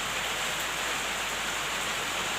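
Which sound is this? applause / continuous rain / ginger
continuous rain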